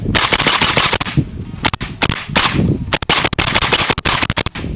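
A Zastava M72 RPK fitted with a ZVUK suppressor fires at an outdoor range in loud, close bursts of rapid shots, separated by short pauses.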